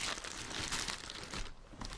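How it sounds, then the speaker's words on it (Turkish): A plastic bag crinkles and rustles continuously and fairly close as a Hella car horn is pulled out of it, a dense crackling sound with no talking. "İsterseniz ilk önce ürünü poşetten çıkartıp ürüne bir göz atalım."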